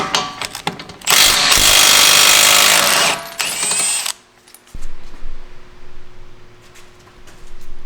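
A power tool, likely an impact gun, blasts loose a 17 mm bolt on the shock knuckle of an S15 Silvia Varietta, a loud, close burst of mechanical whirring for a few seconds, followed by quieter clinks and handling sounds.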